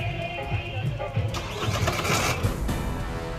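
Motorcycle engines rumble at a BSF bike rally in Jaisalmer, a steady close, mid-loud drone with a rise in intensity partway through, mixed with voices.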